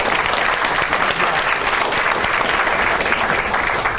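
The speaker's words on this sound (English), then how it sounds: "So I'd like all of you to take a round of applause for each of you." Dense, sustained applause fills a summer graduation ceremony for a middle college, loud and even clapping from a large audience throughout, with no voices standing out.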